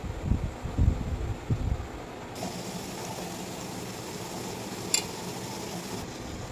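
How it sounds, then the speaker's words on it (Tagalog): Ube spread mixture gets stirred in a bowl set over boiling water, a few scraping, clinking strokes at first giving way to a low steady bubbling simmer with an occasional faint tap. "Mix time to time."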